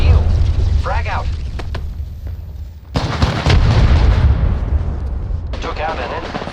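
A frag grenade explosion in the battle royale game Apex Legends, a loud booming blast near the middle amid a dense mix of game effects and gunfire, with voices heard before and after.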